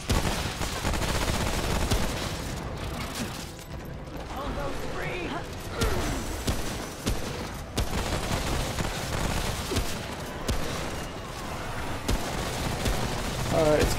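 Rapid gunfire from weapons in the co-op shooter Remnant: From the Ashes, bursts of shots and mechanical clatter running continuously and loud, with players talking over the action throughout.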